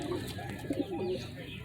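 Soft, low cooing of pigeons or doves, a few gentle throaty notes over a steady background hiss.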